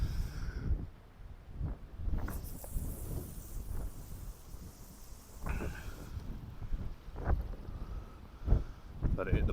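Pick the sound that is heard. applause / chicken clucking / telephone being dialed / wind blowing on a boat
wind blowing on a boat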